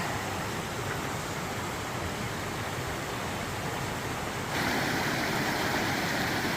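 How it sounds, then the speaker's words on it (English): A creek flows at a trail water crossing, a steady close rush of water with no voices, growing slightly louder and brighter toward the end. "First thing we have is a creek crossing down here"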